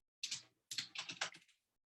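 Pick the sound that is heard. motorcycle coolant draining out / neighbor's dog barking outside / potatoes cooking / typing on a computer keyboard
typing on a computer keyboard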